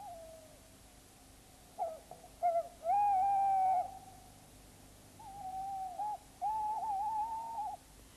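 Tawny owls hoot at a woodland territory boundary, with a few short notes followed by long, wavering, tremulous hoots from more than one bird, moderately near, over a faint steady hum.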